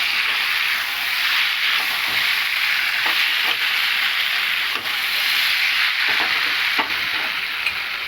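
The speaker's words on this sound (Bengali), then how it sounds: "অর্ধেকটা মাছ দিলাম, একটু নাড়াচাড়া করবো, আবার অর্ধেকটা দেবো।" Small fish fry in a pan with a loud, dense hiss of hot oil that stays steady throughout. Occasional scraping strokes from stirring show as soft bursts.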